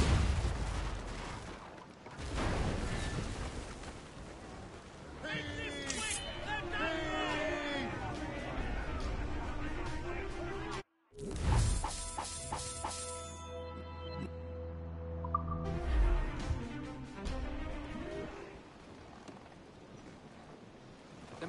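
Ship cannons firing in Assassin's Creed Rogue: loud booms and crackling blasts over wind, water and ship noise, with music and shouted crew voices throughout.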